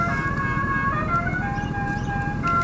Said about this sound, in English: I also have the Dixie horn on this car.